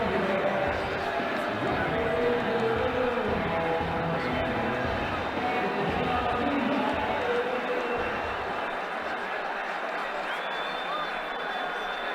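A cricket stadium crowd at a Sri Lanka vs Bangladesh T20 international roars steadily after a shot, a dense, loud wall of cheering that runs throughout with a commentator talking over it.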